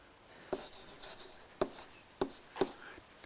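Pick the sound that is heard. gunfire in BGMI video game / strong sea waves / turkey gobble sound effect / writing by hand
writing by hand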